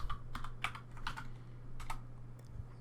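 Computer keyboard keys clicking in short bursts and single taps while terminal commands are entered during a Cardano node update, close and moderately quiet, over a steady low electrical hum, with no speech.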